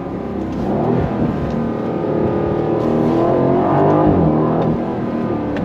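An Aston Martin Vantage Roadster F1 Edition safety car drives at speed, its engine roaring loud and close with rising and falling revs and a deep, continuous growl.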